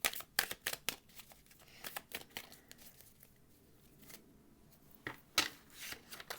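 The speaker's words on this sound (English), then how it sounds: "we're gonna shuffle it both ways." Tarot cards being shuffled by hand, with a run of quick riffling and slapping bursts, several louder crisp flurries near the start and end and a quieter stretch in the middle, close and with no talking.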